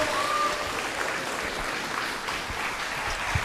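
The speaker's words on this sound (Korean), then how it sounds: "우리 주교님께 다시 한번 큰 박수" An audience at a bishop's lecture in Maryland applauds, a steady, even wash of clapping with no voices on top.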